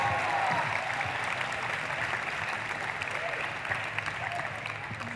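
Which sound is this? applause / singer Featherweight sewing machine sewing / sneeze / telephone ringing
applause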